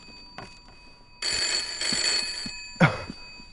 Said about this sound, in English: Ring, ring, ring. What the fuck is this phone?